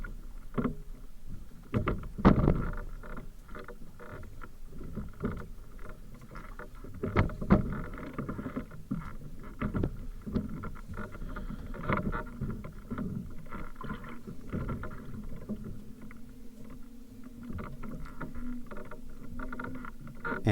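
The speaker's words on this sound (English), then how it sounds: "I can just fix it with the oar" Oar paddling a small proa sailboat, with close splashing and knocking strokes against the water and hull, irregular but repeated, over light wind and water noise.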